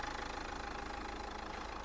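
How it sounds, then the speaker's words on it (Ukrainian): A Dacia Duster 1.5 dCi diesel engine idles with a steady, low rumble, a constant mechanical drone with slight rhythmic knocking and no voices. "Робота двигуна."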